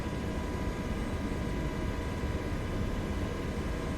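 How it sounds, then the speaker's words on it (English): Helicopter flying over Yellowstone in Microsoft Flight Simulator 2024, a steady, dense rushing drone of engine and rotor that holds constant throughout with no pauses. "Chasing bear in a helicopter."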